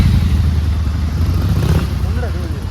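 Royal Enfield motorcycle engine while riding, a loud, steady low thumping drone running throughout, with people talking over it.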